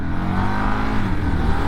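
A liquid-cooled 2025 Indian Scout 101 motorcycle in sport mode pulls hard on a highway, its engine note loud and close, climbing steadily in pitch under full throttle.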